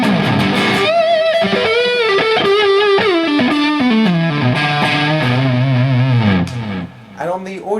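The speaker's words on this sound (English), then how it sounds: "So this is still with loads of distortion." Heavily distorted electric guitar playing a sustained, saturated melodic line, loud and continuous, thinning out briefly near the end.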